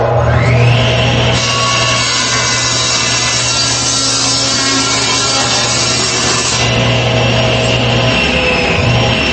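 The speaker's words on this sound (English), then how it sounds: "then it's onto the bandsaw." A bandsaw cuts through wood for a rocking chair renovation, a loud, steady whine and rasping buzz that holds for several seconds with a low motor hum underneath, the blade's pitch shifting slightly as the cut ends.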